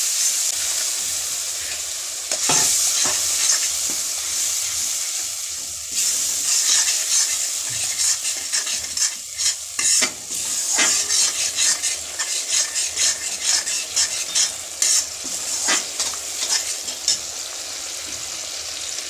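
Young jackfruit curry with tomato paste fries and sizzles in a pan, with a steady hiss broken by repeated scraping strokes of stirring close up.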